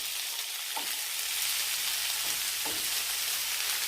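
Collard greens, mushrooms and lentils frying together in a pan, an even, continuous hiss of sizzling with a couple of faint stirring knocks, no one speaking.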